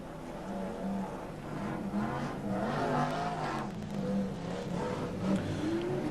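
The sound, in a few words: BriSCA F1 stock cars racing round the track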